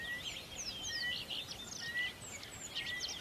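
Rapid high, thin chirps repeat in overlapping bursts throughout, like a frightened, weak baby bird calling insistently against a soft, steady outdoor hiss.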